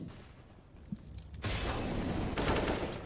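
Gunshots ring out in a Counter-Strike: Global Offensive match, a single faint pop early, then a loud burst of rapid fire from halfway on that continues to the end.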